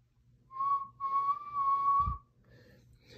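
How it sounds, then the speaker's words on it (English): A steam engine whistle blows three times in quick succession, each sustained, piercing tone separated by brief gaps, fairly close and clear over quiet background rumble, with a short thud near the end. "Whistled Edward"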